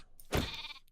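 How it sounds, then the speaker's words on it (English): A single short sheep bleat from Minecraft modded Skyblock gameplay, a quick nasal game-style cry after a brief silence, faint and alone. "Jeez, these sheep annoy me."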